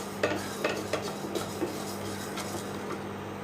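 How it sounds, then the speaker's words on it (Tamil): A spoon stirs rice and cumin seeds frying in a pan, making several clinking scrapes against the metal over a soft, steady sizzle, close and without talk. "இப்போ இந்த சீரகம் அரிசி எல்லாம் பொரிஞ்சு நல்ல வாசனை வருது"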